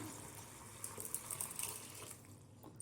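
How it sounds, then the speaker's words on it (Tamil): Soft, steady trickle of water being poured into a pot of tomato kurma, with a few splashy bursts, fairly quiet and close. "இப்போது இதில் தண்ணி சேர்த்துக்கலாம்"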